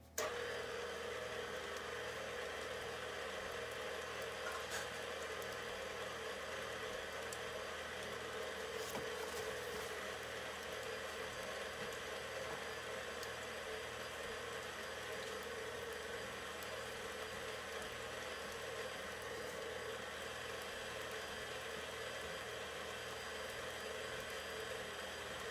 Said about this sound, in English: And I'm going to blend that.